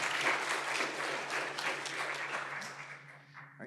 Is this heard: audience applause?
yes